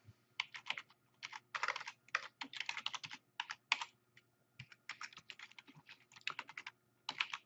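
Steady bursts of typing on a computer keyboard, quick clustered key clicks in uneven runs with short pauses between, close and fairly quiet with no talking.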